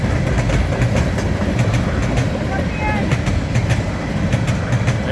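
A Norfolk Southern AC44C6M locomotive and its train roll past close by, a steady loud rumble with rhythmic clicks and clatter of cars, with people talking over it.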